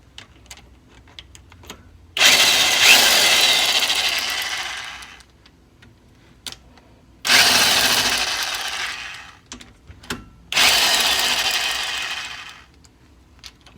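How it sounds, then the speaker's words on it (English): An impact wrench removes bolts from a Jeep WJ Dana 35 axle in three separate loud, rattling bursts of a few seconds each, separated by quiet gaps with small metallic clicks. "Take them out with the impact, and here we go."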